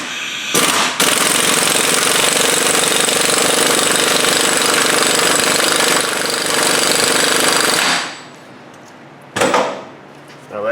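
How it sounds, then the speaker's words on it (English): An impact wrench on torque setting 2 hammers at a lock nut on a Buick Enclave, a loud, close, continuous rattling burst lasting several seconds, then a pause and a short second burst. "Now that is a lock nut, so that's why it sounds like it's really ugga-dugging along."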